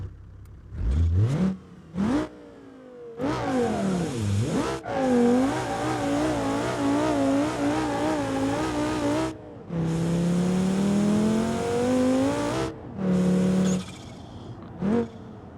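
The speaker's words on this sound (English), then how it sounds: "Oh, turbo noises." Turbocharged inline-five ETK car in BeamNG.drive revs through several gear pulls, its engine note rising and falling with whining turbo spool and short bursts between throttle lifts, loud and alone.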